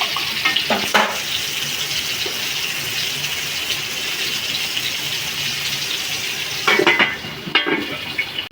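Steady sizzling of pointed gourd frying with cumin in a pan, a continuous hiss with a few louder scraping stirs near the start and end.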